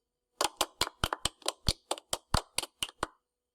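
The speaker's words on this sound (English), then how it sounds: "Clap your hands." About a dozen crisp hand claps ring out in a quick, slightly uneven rhythm, close and dry, with brief silence around them.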